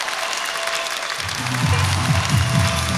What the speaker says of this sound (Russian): уважаемые друзья, бурные аплодисменты!